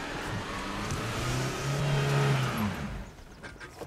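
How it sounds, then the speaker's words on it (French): A 4x4 vehicle's engine runs with a low, uneven rumble that fades and dies away, leaving quieter background noise at the end. "Là, mon véhicule a calé"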